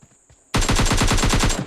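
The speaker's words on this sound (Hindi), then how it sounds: "अब इतने में ही इस बगल में बोट फायरिंग शुरू हो जाती है" Rapid automatic rifle fire from a bot in PUBG Lite, a loud close burst of about a dozen evenly spaced shots after a short quiet lead-in.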